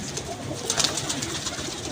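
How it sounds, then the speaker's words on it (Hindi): A golden pigeon coos softly nearby amid a steady background hiss, with a slightly louder murmuring burst in the middle. "ये जी जुएब भाई कबूतर है ये ना गोल्डन।"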